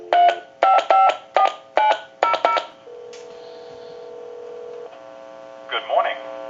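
A quick series of touch-tone beeps dials a number on a Mickey Mouse telephone, then a steady tone holds for a couple of seconds, followed by a brief fainter burst of sound.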